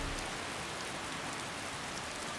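Rain falls in Skyrim with the Nordic Souls mod as a steady, even hiss of raindrops on the ground, continuous and fairly faint, with no voices.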